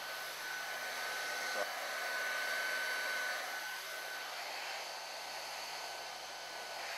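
Steady whooshing roar of a heat gun running continuously as it heats a TE molded part recovered onto an adapter, close and even throughout with no talk.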